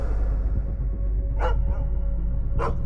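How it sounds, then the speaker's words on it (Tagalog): Dogs bark from far away, with two short, distant yaps standing out above a steady, heavy low rumble of background noise. "Isang dosenang aso ang tumatahol mula sa malayo."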